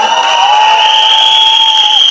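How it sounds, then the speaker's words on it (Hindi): Loud audience applause and cheering at a Bollywood movie song launch event, with a crowd roaring continuously and sustained high-pitched tones or shrill cheers riding over the clapping. "एक बार उसके लिए जोरदार तालियां"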